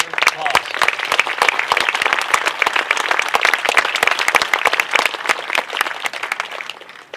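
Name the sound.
applause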